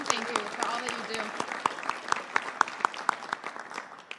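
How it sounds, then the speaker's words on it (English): Audience at a ceremonial bill signing for Boston liquor licenses applauding, a close, steady patter of clapping that thins into sharper, more separate claps toward the end. "Another round of applause for our incredible reps."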